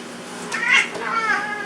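A cat meows close by, a single drawn-out call rising and falling, followed by a second, softer meow.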